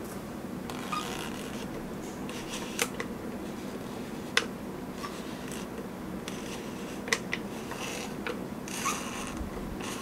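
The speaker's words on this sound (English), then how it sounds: "you wind the left knob until the film counter shows the number 1" Film advance knob being wound on a Zero2000 pinhole camera, soft ratcheting clicks and scraping with a few sharper isolated clicks, close and quiet, with no talk.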